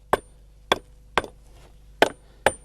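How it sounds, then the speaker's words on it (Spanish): A hammer tapping a stone into place in a dry stone terrace wall on an island gives five sharp, close knocks at uneven intervals, each ringing briefly against a quiet background. "Hay que darle un poquito para adentro con el martillo."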